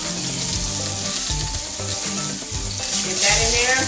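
Onion hits ghee (clarified butter) in a very hot pan, a loud continuous sizzle that swells near the end as the pieces settle, close and steady with no voice over it.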